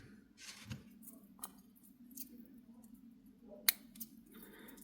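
Scissors snip through crochet yarn while a Christmas decoration is finished, a single sharp close click standing out near the end against a quiet room with a few soft handling rustles.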